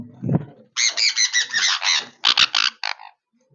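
Sun conure parrots about a year and a half old give loud, harsh squawks close by, first a rapid run of repeated calls and then a few shorter bursts before falling quiet.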